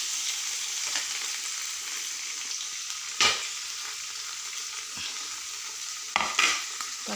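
Tomatoes sizzling and frying in a pan after green chillies and curry leaves, a steady bright hiss with a few sharp stirring scrapes near the middle and end.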